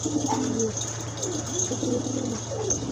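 Pigeons cooing at a pigeon farm, soft repeated throaty coos close by over a steady background hum, with faint chirps mixed in.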